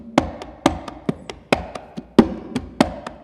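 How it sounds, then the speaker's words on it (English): Sharp hand-drum strikes in a syncopated clave-like pattern, about a dozen hits over a few seconds, close and fairly quiet with no talking. "And I can even play the clave on the drum."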